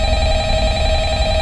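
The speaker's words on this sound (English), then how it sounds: "We got a phone call from our buddy" A telephone rings inside the Five Nights at Freddy's horror video game, a steady, sustained electronic tone that holds evenly and fairly loud throughout, with no voices over it.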